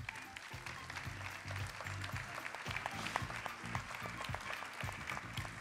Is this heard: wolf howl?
no